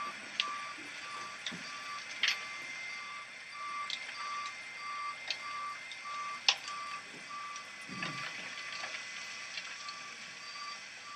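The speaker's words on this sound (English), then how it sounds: "So the truck bed starts to lift. And the first bit of dirt hits the ground." A dump truck raises its bed and tips a load of dirt onto the ground while a reversing beeper repeats steadily, with scattered knocks and a low rumble from the falling dirt beneath.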